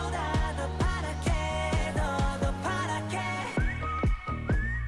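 Whistled melody from a song, clear sustained pitched tones over guitar and bass notes played in unison, with steady rhythmic plucked attacks.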